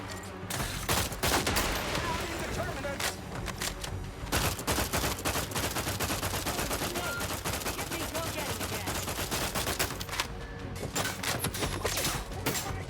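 Gunfire in The Outer Worlds 2 video game, dense bursts of rapid shots and crackling volleys, loud and near, running almost continuously with brief dips and a voice faintly underneath.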